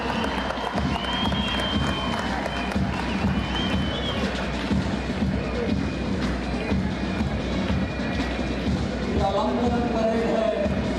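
Thunderous applause and crowd noise fill a stadium during a police colour presentation parade ceremony in Sikkim, a steady dense roar of clapping throughout with announcer speech over it.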